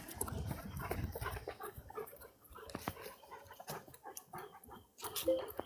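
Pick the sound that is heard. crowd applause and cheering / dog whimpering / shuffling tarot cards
dog whimpering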